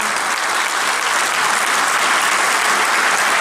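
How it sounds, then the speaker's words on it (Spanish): An audience at the 2016 Peñihuen anniversary celebration applauds a harp-playing brothers' duo, giving full, even clapping from many hands that holds steady throughout without speech. "El aplauso de ustedes"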